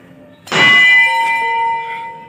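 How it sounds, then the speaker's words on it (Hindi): A single temple bell at a Mata Rani shrine is struck once, a loud, close metallic clang that rings on with a sustained shimmering tone and slowly fades. "घंटी बजा डाली अपन ने घंटी बजा देते हैं"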